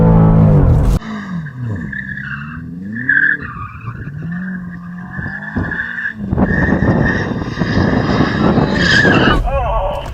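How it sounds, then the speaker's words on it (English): A BMW revs hard and spins its tyres to warm them up before a drag race, producing loud, sustained tyre squeal and skidding over a wavering, rising engine note, close by, with people talking briefly. "You warm up your tyres."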